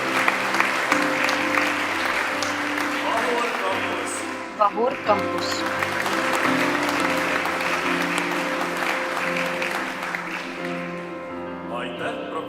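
An audience at a university anniversary academic ceremony applauds for IT faculty doctorates, steady crowd clapping running beneath a speaker's amplified voice and a low hum of the hall.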